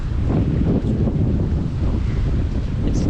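Strong wind buffets the microphone on a tropical beach, a continuous loud low roar with steady gusting texture and a faint wash of surf beneath it, and no one speaking.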